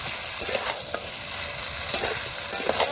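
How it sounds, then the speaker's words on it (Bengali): Chopped tomato stirred into a spice paste frying in a pan for a goat head curry, with a steady sizzle under scraping and clinking strokes of a spoon, close and moderately loud, with no talking. "টমেটো দিতে আমি আর একটু ভালো করে নেড়ে নেব।"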